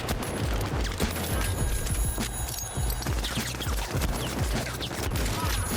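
Ranger Sequoia gun firing in the video game The Finals, a dense run of loud, rapid shots with booming low thumps throughout, no talking.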